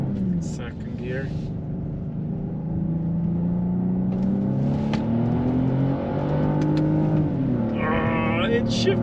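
A 2022 BMW X3 M40 and a 2022 Genesis GV70 3.5T accelerate side by side in a drag-and-roll race, engine drone rising through the gears from inside the cabin while people talk over it.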